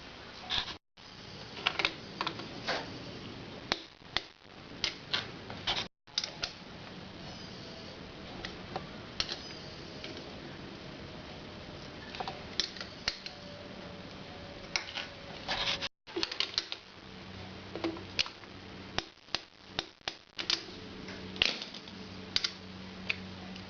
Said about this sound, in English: I can't access the 11mm bolts with my torque wrench, so I have to use a spanner.